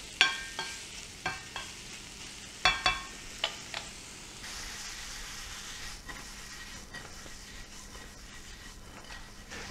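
Rehydrated freeze-dried carrots are stirred and tossed in a pan as they heat, with several sharp utensil clicks and scrapes early on, then a steady soft sizzle.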